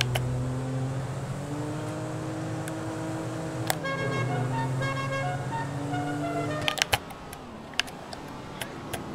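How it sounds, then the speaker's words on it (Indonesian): In GTA V, a car horn blares in long sustained tones over a steady engine drone, followed by several sharp clicks near the end, with no talking. "Saya suka klakson yang biasa aja sebenarnya."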